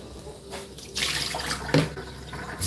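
Water runs steadily, splashing and hissing like a tap filling a sink, moderately close and heard alone with a few louder splashes.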